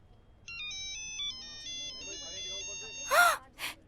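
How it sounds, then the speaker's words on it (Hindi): A mobile phone rings with a melodic ringtone of repeated electronic beeps from an incoming call, running steadily through the clip while a sharp gasp and a snort-like breath burst in near the end. "ये छोटू का कॉल इस वक्त क्यों आ रहा है?"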